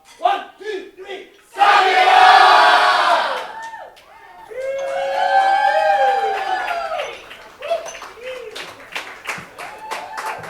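A crowd shouts a drinking toast together after a count, over Kirin Ichiban beer at a birthday gathering: one loud group yell, then whooping, cheering and scattered claps and taps.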